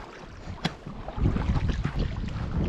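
A canoe is paddled on a lake near a Snowdonia campsite, with soft uneven water splashes and knocks under wind noise.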